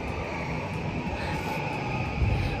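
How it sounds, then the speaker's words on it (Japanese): A steady low rumble of a passing train in Mejiro, Tokyo, fills the clip, a broad continuous roar with a faint high whine above it. "電車が通ってますが気をつけて。"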